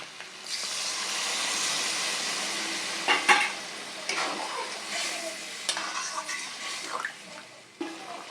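Coconut milk pours into a frying curry of bean seeds, hissing and sizzling steadily in the pan, with a few sharper stirring clatters and splashes near the end.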